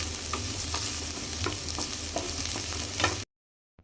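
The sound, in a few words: onions, carrots and beans being fried and mixed in a pan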